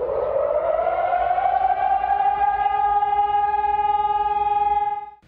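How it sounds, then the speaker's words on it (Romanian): Civil defense warning sirens sound from tall buildings in central Bucharest, a steady harmonic wail holding pitch for several seconds and then cutting off abruptly. "sirenele Sistemului Național de Avertizare a Populației au sunat de pe cele mai înalte clădiri din zonă"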